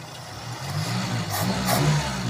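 The carbureted engine of a Ford Laser revs at close range, a rough, throaty drone that swells and dips slightly over a couple of seconds, with no voices.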